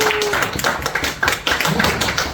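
An audience at a broadcast speech class address applauds, a close, busy spatter of many hands clapping at once, loud and continuous.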